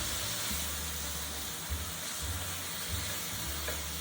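Bacon frying in a pan gives a steady, dense sizzle and crackle close up, with low rhythmic rumbles beneath and no talking.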